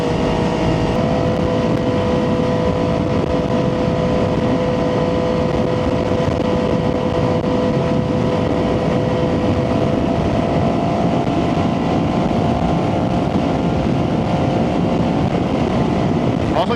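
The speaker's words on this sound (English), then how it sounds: "Not just the bike, the exhaust sounds amazing too." Triumph 675 sport motorcycle fitted with a full IXIL exhaust cruising on a highway, a steady loud engine drone with exhaust tone mixed with strong wind rush throughout, no talking.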